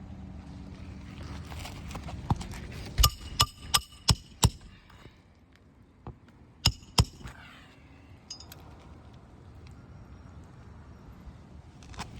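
A hammer drives nails into roof shingles during a roof repair, giving a series of sharp, ringing strikes, some in quick succession and others spaced apart, close by with quiet rustling between.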